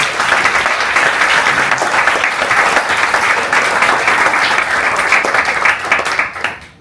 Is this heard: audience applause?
yes